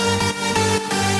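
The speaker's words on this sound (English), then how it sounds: "The only difference is sidechain" A progressive house track plays with heavy sidechain compression, its sustained chords and bass ducking in a steady pumping rhythm on each kick before swelling back, loud and continuous.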